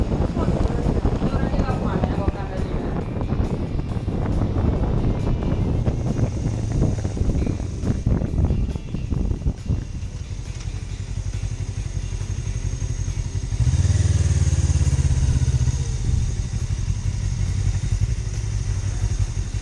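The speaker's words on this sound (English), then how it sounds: "In this footage, taken from southern Spain, I'm riding with my friend Jay" Motorcycle ridden along a road in southern Spain, its engine droning steadily under heavy wind rush against the microphone, with a deeper rumble swelling near the end.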